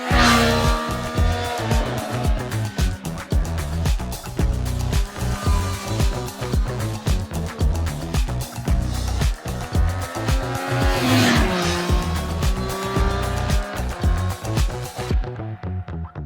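A Triumph Street Triple 765 RS motorcycle roars around a race track, its engine loud and close as it revs hard and climbs through the gears in continuous rising and falling sweeps before fading at the end.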